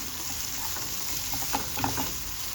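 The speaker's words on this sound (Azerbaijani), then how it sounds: "Belə qovururam bir şey" Potatoes fry in a pan with a steady, soft sizzle, and a few light stirring scrapes and pops sound close by. No voices.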